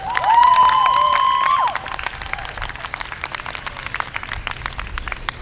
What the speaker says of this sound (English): give me a big round of applause for Ma'an